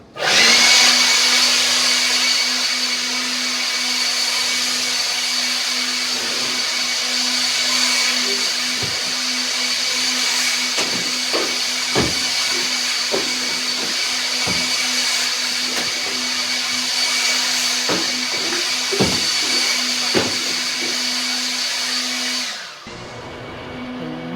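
A leaf blower with a GoPro mounted on it roars steadily and loudly at close range with a constant whine, occasional thumps and knocks, then cuts off abruptly near the end.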